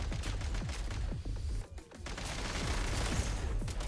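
Dense, rapid video game gunfire crackles continuously at close range, with a brief lull midway before the shooting resumes.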